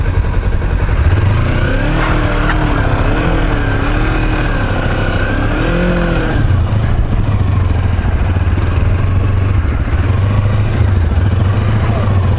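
A Kawasaki Versys-X 300 motorcycle engine revs loudly and close on an uphill off-road climb, pitch rising and falling in several surges over a steady running drone.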